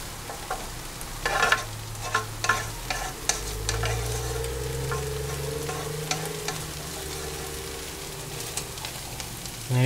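Peas cooking in a pan and stirred repeatedly, with close, rapid scraping strokes and clatter over a steady sizzle, plus a low humming tone running underneath.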